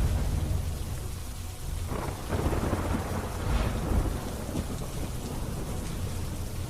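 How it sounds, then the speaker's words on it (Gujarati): Heavy monsoon rain pours steadily on surfaces in rural Saurashtra while rolling thunder swells in the middle, the storm sounding dense and fairly distant with no voices. "છત્રાસા, ચીચોડ સહિતના ગામડાઓમાં ધોધમાર વરસાદ પડી રહ્યો છે"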